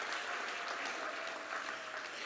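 Continuous crowd applause at a police department awards ceremony, a fairly quiet, even wash of many hands clapping throughout with no distinct pauses.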